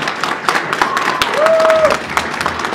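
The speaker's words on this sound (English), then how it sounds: "please join me in applauding the couple on this great event" Wedding guests clap for the couple at an evening reception, scattered nearby claps with a whistle and light crowd noise.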